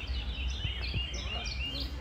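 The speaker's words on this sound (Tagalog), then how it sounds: "Dami po ng huni ng ibon." Birds in a park chirp and call in quick, overlapping high tweets against outdoor background noise, fairly near and continuous.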